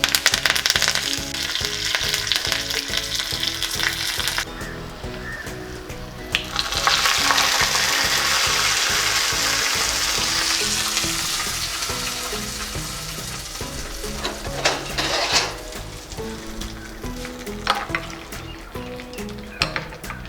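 Cumin, chana dal and dried red chillies sizzle and crackle in hot oil with mustard seeds, a steady loud frying hiss that runs throughout with occasional stirring, no talk over it.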